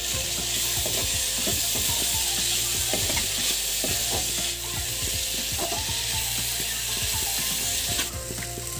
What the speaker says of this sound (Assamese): এতিয়া বইল কৰি ৰখা বুটৰ দাইলখিনি দি দিছো আৰু অলপ দেৰি ভাজি লম।